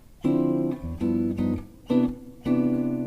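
Clean guitar jazz chords played in short syncopated stabs with delayed attack, four separate hits with brief silences between them, warm and fairly close.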